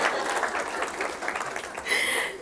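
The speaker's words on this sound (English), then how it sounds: "you can cheer for me if you want" Audience applause at an awards ceremony, a steady wash of clapping that fills the whole stretch and swells brighter near the end, heard up close without any clear talk over it.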